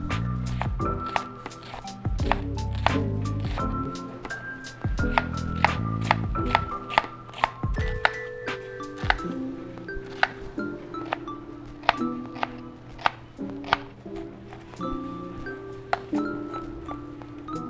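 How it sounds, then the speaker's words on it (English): A knife chopping fennel, onions, shallots, leeks and garlic on a cutting board, a long run of sharp, close, fairly regular knocks that carry on steadily throughout. "I've already diced some fennel, some onions, some shallots, some leeks, and some garlic."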